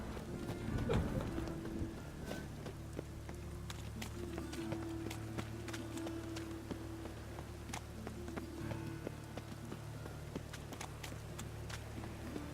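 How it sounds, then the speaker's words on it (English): Steady rain falling in The Witcher 3: Wild Hunt, a faint continuous hiss under a low ambient hum, with scattered soft ticks and taps from drops or footsteps throughout. "Rain again."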